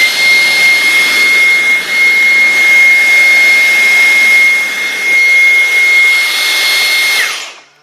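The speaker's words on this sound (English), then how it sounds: "if you are blocking the airflow while using on max without accessory, it should do the pulsing" A Dyson V10 cordless vacuum runs on max with its airflow blocked and no accessory fitted, giving a loud, steady, high-pitched motor whine and rushing air. The sound surges slightly in places before cutting off at the end.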